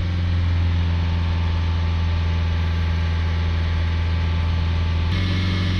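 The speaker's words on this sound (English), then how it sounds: "So just holding the revs around sort of 3000 RPM." Steady diesel engine drone of a Renault Trafic van held at about 3000 RPM, a loud, even hum with no variation until a slight shift near the end.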